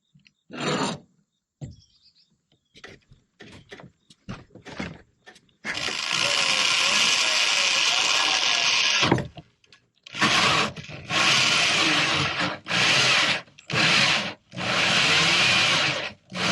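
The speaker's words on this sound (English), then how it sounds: "I'm just using a 2-inch hole saw here to drill the hole." A 2-inch hole saw cutting through the deck of a Com-Pac 16 sailboat, with short grinding starts followed by a long steady drilling whine, then several more bursts separated by pauses.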